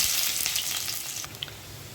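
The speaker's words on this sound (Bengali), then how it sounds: "কড়াতে তেল দিয়ে দিয়েছি, এবার এতে আমি কিছুটা পেঁয়াজ দিয়ে দেবো।" Onion frying in oil in a wok crackles with a close, steady sizzle, broken once by a faint clink near the end.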